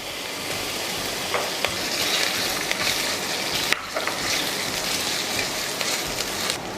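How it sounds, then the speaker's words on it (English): Ginger, garlic and onion fry in oil in a pan, a steady close crackling sizzle with scattered pops and brief stirring scrapes, with no talking. "Use a bit of ginger to fry it."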